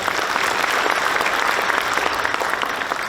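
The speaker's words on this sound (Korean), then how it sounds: "이분들을 위해서 박수 한번 보내주시죠." A crowd at the Daegu-Gyeongbuk Trade Day commemoration ceremony breaks into dense, steady applause, loud and sustained throughout with no voices over it.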